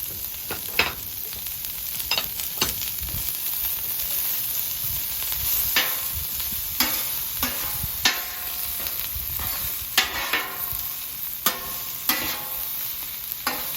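Cabbage and butter sizzle on a flat top grill outdoors, a constant bright hiss broken by sharp scraping and clacking from a spatula or turner at irregular intervals.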